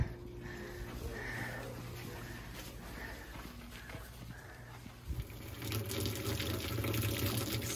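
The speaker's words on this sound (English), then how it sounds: "I'm cleaning off the knife and cutting board and pan with this little outdoor sink" Water running from a small outdoor sink as a knife, cutting board and pan are rinsed, a steady splashing flow that grows louder and fuller toward the end, with faint handling noises.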